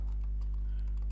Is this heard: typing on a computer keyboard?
yes